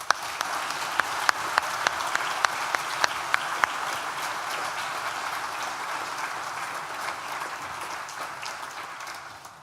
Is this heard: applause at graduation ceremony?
yes